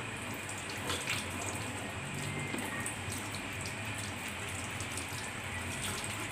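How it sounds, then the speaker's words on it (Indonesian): Okra and peanuts being rinsed under a running kitchen tap, a steady close water stream splashing continuously throughout with no speech. "pastikan kamu cuci bersih ya guys cuci dia bersih-bersih"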